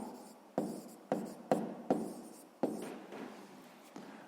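A pen writes on paper during sixth-grade maths work, making about six distinct scratchy strokes, each starting sharply and fading, close up and with no talking.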